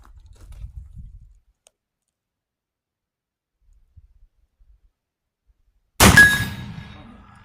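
A single close, loud rifle shot from a 45-90 rolling block rifle with a reduced smokeless load cracks sharply after a long quiet pause, then rings out and decays, with faint handling noise before.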